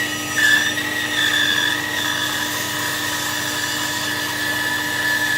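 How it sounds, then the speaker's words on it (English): A bandsaw cuts wood while being fed steadily forward, giving a continuous close whirring drone with a high whine that rises and dips slightly as the cut turns. "one of the important things when using a bandsaw is to always keep pushing forwards"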